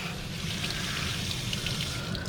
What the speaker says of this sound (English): So you rinse them off.